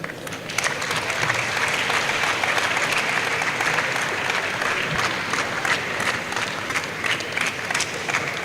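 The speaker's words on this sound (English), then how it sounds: "Can we sustain the applause?" Sustained audience applause after a lecture on enzymes, a full hall clapping continuously and evenly with a faint crowd murmur beneath.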